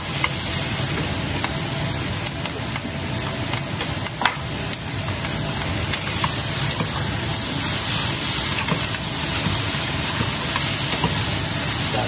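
Chicken pieces hit a hot pan with aromatics, giving a steady, loud, broadband sizzle and hiss that keeps up evenly throughout, with faint clinks of stirring and no talk.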